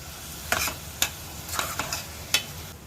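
Onion frying in a pan, a soft low sizzle broken by five or six sharp scraping knocks as the pieces are stirred at an uneven pace, with no speech.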